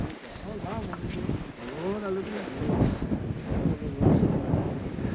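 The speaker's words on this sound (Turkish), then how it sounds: "Bu rüzgar vesaire sizin birazcık başınızı ağrıtabilir" Strong wind on a hike up the Fuego volcano roars and buffets the microphone in gusts that swell and fade, while a person talks through most of it.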